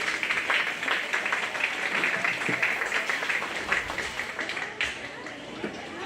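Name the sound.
applause for commercial gilt champions at county fair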